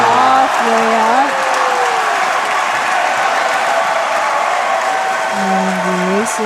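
ACSI school crowd cheers and applauds at a boys' basketball final, a steady roar of clapping and shouting with a commentator talking over it.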